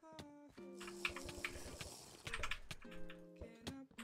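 Computer keyboard and mouse clicks in bursts of quick, close, crisp taps, with short pauses between runs while playing Ranked Skywars.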